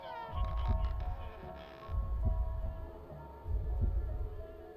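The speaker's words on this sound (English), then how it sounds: "everything goes blurry as you hear Roxanne's heartbeat as she says about her head, with the throbbing driving her crazy" A character's heartbeat throbs in a horror video game, a loud low pulsing thump in slow recurring bursts over a faint tonal hum, with no voices.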